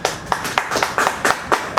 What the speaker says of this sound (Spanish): recibamos con fuertes palmas al doctor Miguel Ángel Garibaldi Latorre